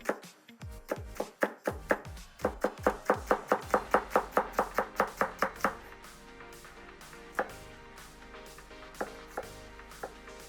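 A knife chops green onions rapidly on a cutting board in a fast, even series of sharp taps, then slows to a few scattered cuts, close and clear.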